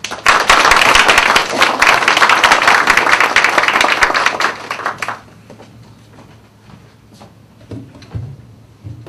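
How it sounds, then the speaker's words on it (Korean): Applause from a lecture audience greeting the speaker for a Korean traditional etiquette class, dense clapping for about five seconds before fading out into a quiet room with a few scattered sounds. "김정 원장님을 큰 박수 맞아주시기 바랍니다."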